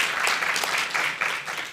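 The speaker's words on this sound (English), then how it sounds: "So I want us to give another hand and another applause to him" An audience applauds after a prestige lecture, a dense and continuous wash of many hands clapping together that stays steady throughout.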